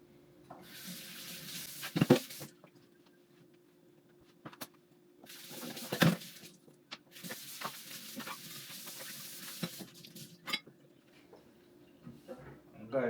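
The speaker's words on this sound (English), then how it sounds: "see, I'm washing my hands" Hands being washed under a running kitchen tap: bursts of flowing water start and stop several times, with splashing and a few clinks between them, and a person talking over it.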